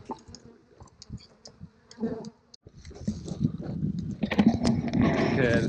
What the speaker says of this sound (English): I just popped the top on the first hive. Take a looky there. These are looking pretty good. Very good density of bees.